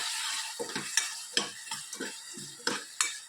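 A spoon stirs tomato gravy with hing, garam masala and chillies in a frying pan, with steady sizzling and a series of soft scraping strokes and occasional light clinks, close and alone.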